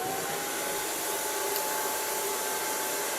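A hair dryer blows hair dry at a salon, a steady close whooshing roar with a faint motor whine that holds at constant loudness throughout, with no talking.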